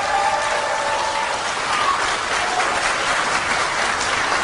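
Loud, continuous clapping from party members and supporters at a Democratic Party convention-eve rally, a thick crowd roar of hands with no break from start to finish.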